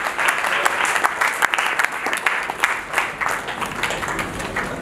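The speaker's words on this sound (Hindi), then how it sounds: "एक बार जोरदार तालियां दोनों हाथ उठा करके जरा बताइए कि कवियों के परिवार में कैसे स्वागत किया जाता है।" A crowd at a Hindi poets' award ceremony applauds steadily with dense, continuous clapping at moderate loudness, with no voices on top.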